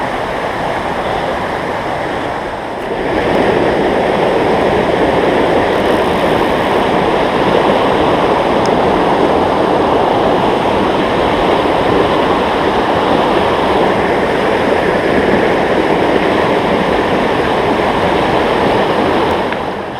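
Steady rushing water of a river in the Creuse countryside of France, broad and continuous after a quieter first few seconds, close and loud with no talk over it.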